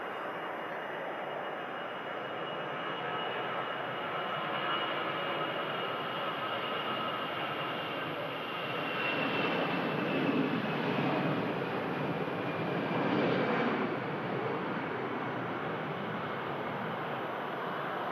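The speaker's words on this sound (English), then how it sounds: "EasyJet A320 now rolling on the runway." An EasyJet Airbus A320 rolls for takeoff on runway 05 left at Manchester Airport, heard as a steady, fairly distant broadband jet roar that swells slightly as the roll continues, with no voices.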